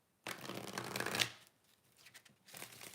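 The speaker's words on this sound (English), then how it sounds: "One more shuffle." Tarot cards riffled in a quick shuffle, a close, crisp burst of flapping and riffling that lasts about a second and then trails into softer card handling.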